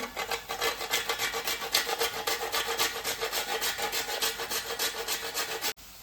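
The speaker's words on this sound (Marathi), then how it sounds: "थोडंसं जायफळ किसून घालते" Nutmeg rubbed quickly against a grater for a sweet strawberry modak filling, a steady rasping scrape in rapid repeated strokes, close and alone.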